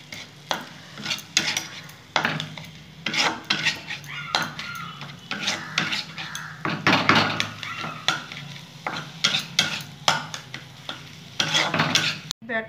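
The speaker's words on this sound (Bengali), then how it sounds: "নেড়ে নেবো একটু।" A utensil stirring ground black pepper and spices in a frying pan while preparing lonkar pakora, with repeated scraping and clinking strokes in an irregular rhythm and a light sizzle underneath, close and fairly loud.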